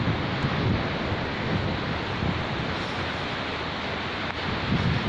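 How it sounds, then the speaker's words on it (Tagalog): Steady wind rushes across the microphone with a broad, hissing roar, like a breeze at the shore, at Orewa Beach, continuous throughout with no voices. "sarap na simoy ng hangin."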